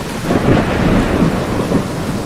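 Steady heavy rain with deep rolling thunder rumbling throughout, a continuous loud storm with no voices.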